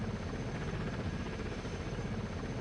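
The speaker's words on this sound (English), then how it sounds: "Looks like our helicopter's taking off" A helicopter takes off in the video game Delta Force Land Warrior, its dense rotor thump and roar steady and loud throughout with no talk.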